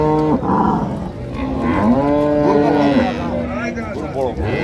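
Cattle, including dairy cows and calves, moo loudly and close by at Raniganj cattle market in Dinajpur. Several long, drawn-out calls overlap one another over crowd noise, with voices talking nearby.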